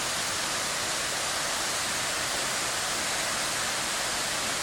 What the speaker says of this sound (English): there was a more secret falls, which is bigger and better